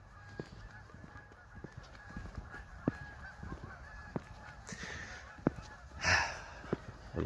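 Geese honking in a park, scattered short calls at middle distance over steady ambient rumble, with one louder, closer burst of honking near the end.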